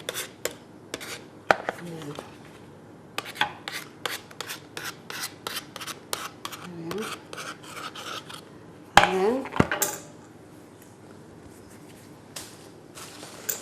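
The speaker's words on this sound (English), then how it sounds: "just using the back of a knife, trim away from you" A knife's back scrapes and taps around a pastry case's edge in a Cornish kitchen, a run of quick close clicks and rasps in two bursts with a scuffing rub near the end.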